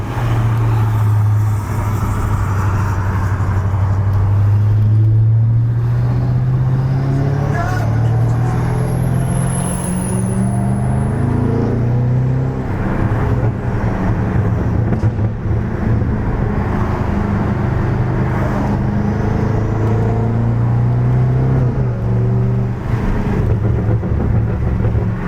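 Twin-turbo V8 of a BMW 550i rumbling steadily while driving, a continuous loud low drone that rises and falls with throttle, with occasional burbling pops layered over road noise throughout.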